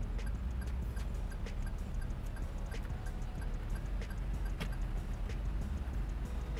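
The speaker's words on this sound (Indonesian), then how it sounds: "suara dari sennya bisa kita ubah-ubah nih" Faint, regular ticking clicks from a Toyota Raize 1.0 Turbo turn indicator repeat at a steady pace over a low hum inside the quiet car.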